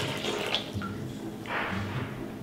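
Boiling water pouring onto rose petals, a steady watery splashing and gurgling that runs throughout at a close, moderate level, swelling slightly near the end.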